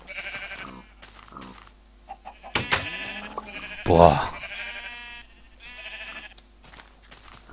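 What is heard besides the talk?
sheep bleating in Minecraft video game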